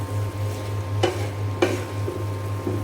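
Cauliflower florets hit a pan of cumin, ginger and spice paste, giving a steady close sizzle broken by two sharp scraping stirs of a spoon against the pan.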